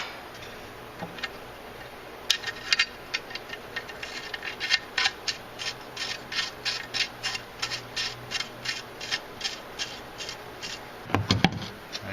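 Ratchet tightening an exhaust manifold nut on a Mazda 626: a fast, even run of sharp metallic clicks, close and clear, with a short louder clatter near the end.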